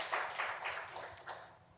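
A church congregation claps in a brief, soft burst of applause during a Sunday worship service, fading out after a couple of seconds.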